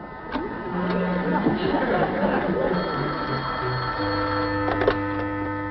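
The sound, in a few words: telephone ringing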